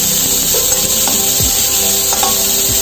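Capsicum and carrot stir-fry in a hot pan for egg noodles, giving a loud continuous sizzle with occasional scraping stirs and clinks, no talking.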